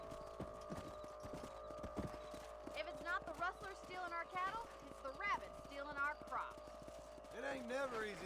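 Horses in Red Dead Redemption trot along with quick rhythmic clip-clopping hooves and an occasional whinny, while voices talk over the hoofbeats.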